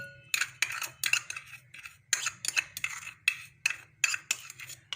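A spoon stirring sugar and yeast in a bowl, a series of quick scraping clinks at an uneven rhythm, close and fairly crisp over a low background hum.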